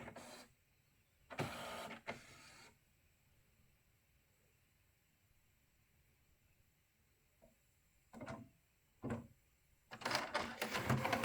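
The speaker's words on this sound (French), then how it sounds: "Donc l'imprimante redémarre." An HP printer restarting after a reset, with bursts of mechanical whirring and clunking separated by quiet pauses, then a busier run of motor and carriage noise at the end.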